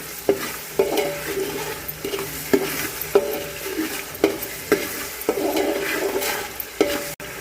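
Pav bhaji masala fries in oil in a large pot being made for about 40 people, with a soft sizzle under repeated scraping, clinking spoon strokes against the pan, roughly one stroke every half second.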